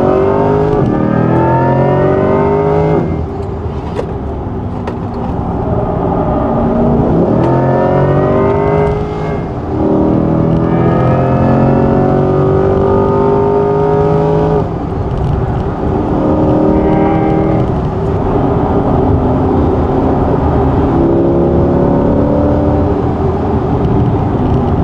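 A 2024 Corvette E-Ray hybrid sports car's engine roars continuously on a race track, with rising and falling revs and gear shifts as it speeds along and brakes hard, loud and close throughout.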